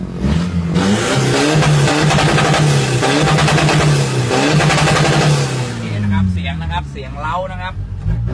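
A car with a racing exhaust setup revs hard and loud up close, the engine note climbing and holding through repeated pulls before easing off, with voices coming in near the end.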